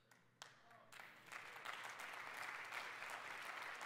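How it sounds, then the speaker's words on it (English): An audience at a 2022 NSA conference talk applauds: a few scattered claps first, then the clapping swells into sustained, fairly distant applause with no talking. "I appreciate the applause"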